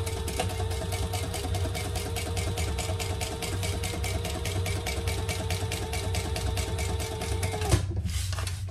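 Sewing machine running steadily to stitch a fold-over seam allowance on a sling bag, a fast even needle rhythm with a motor drone, stopping abruptly near the end with a brief click.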